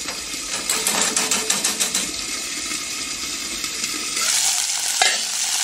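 Crustaceans cooking in a pan are stirred in a quick run of scraping strokes over a steady sizzle, close by, followed by calmer frying and a sharp knock near the end.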